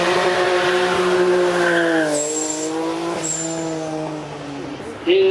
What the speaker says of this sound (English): You're about to hear a V6 and 2 turbos sing away down the track.